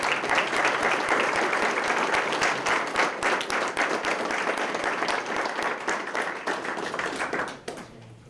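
An audience claps in a sustained, dense round of applause at a Sarasota Police Department promotion ceremony, holding strong for over seven seconds before quickly fading out.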